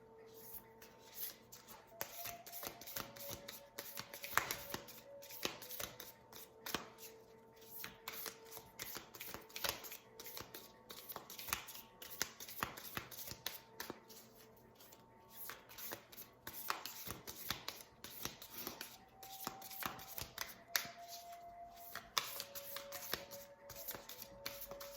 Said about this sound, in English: This is a new deck here, and the cards are very sticky, and so it's kind of hard.